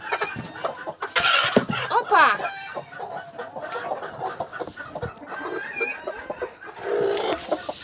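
A broody hen that has just got up off her eggs clucks in a farmyard with other fowl nearby, the calls close and repeated under a brief spoken exclamation.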